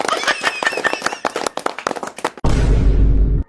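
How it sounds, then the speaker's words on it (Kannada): Rapid, crisp clapping from a small group in a Kannada comedy skit, a quick irregular patter of hands that gives way to a dense, noisy burst at the end. "ಹೊಡಿರಿ ಚಪ್ಪಾಳೆ"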